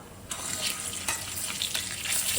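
Garlic and dried red chilli sizzle in hot oil for a Bengali prawn dish, a steady bright hiss with soft crackles rising after a brief quiet start, close and alone without talk.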